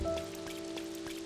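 Rain falling in the farming video game Doraemon Story of Seasons, a steady close patter of drops over a sustained musical drone, with no voices.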